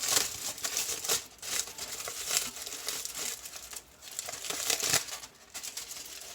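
Foil is peeled off a tumbler by hand, making continuous close crinkling and crackling with brief tearing bursts and short pauses, and no voices.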